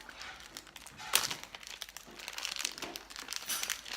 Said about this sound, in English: I'm trying to open it.